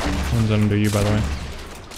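Drum gun fire in a console battle royale shooter, a dense burst of rapid shots that fills the clip loudly, with excited voices talking over the gunfire.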